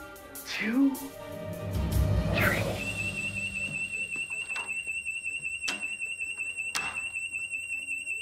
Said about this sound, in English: on the count of three, I'm going to turn on the fire alarm